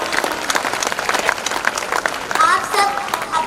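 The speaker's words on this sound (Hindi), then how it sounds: "तालियां कमजोर पड़ रही है आपकी।" Audience clapping at a school annual function, loud dense applause sustained throughout, with voices and faint cheering mixed in and a swell in the second half.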